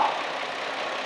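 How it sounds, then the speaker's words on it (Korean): A Hyundai Grandeur TG L330 V6 idles with a steady, even hum, close and moderately loud, heard briefly on its own without talk. "엔진 소리 한번 들려드릴게요"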